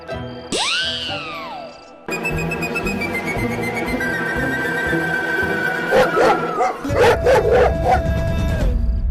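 Dogs bark and let out long rising howls, several calls overlapping, loud and close with yips breaking in toward the end.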